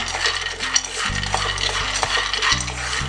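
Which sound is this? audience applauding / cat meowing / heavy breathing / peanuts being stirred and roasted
peanuts being stirred and roasted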